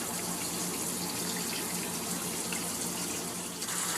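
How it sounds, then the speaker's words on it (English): Water pours steadily from a kitchen faucet sprayer into a sink, a continuous close, even rush with no talking. "I can finally run dishwater. It won't take an hour anymore."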